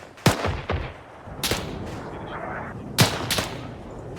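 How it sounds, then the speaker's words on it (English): Several loud, sharp explosive booms of mortar fire in the military video game Arma 3, spaced about a second or more apart, with the echoes trailing off between them. "I think they're mortaring over to that position"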